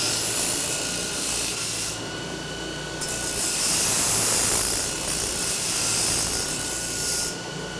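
Farrier's rasp filing the edges of a horse hoof in long, steady strokes, a loud, close abrasive scraping that pauses briefly between passes, with no talking.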